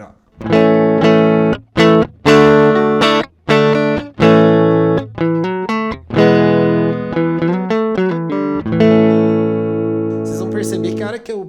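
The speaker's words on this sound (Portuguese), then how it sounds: "esse é o som da guitarra ligada direto, sem a simulação do amplificador" Electric guitar plugged straight in with no amplifier simulation, playing a clean, dry run of separate picked notes and short chords with brief gaps, loud and close, a voice murmuring once.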